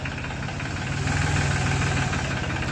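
A SOLIS 26 small tractor engine runs steadily nearby with a rapid, even chugging putter, holding a constant idle-like rhythm throughout with no voices.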